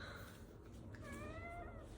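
A pet cat named Stinky, a chubby three-year-old, gives one drawn-out meow that rises and falls, close but soft over a steady background hiss.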